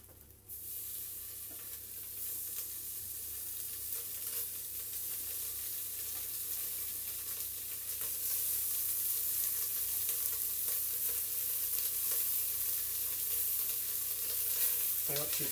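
Beef pieces sear in a hot pan for boeuf bourguignon, giving a steady, continuous sizzle with faint crackling and occasional stirring scrapes, fairly close and without speech throughout.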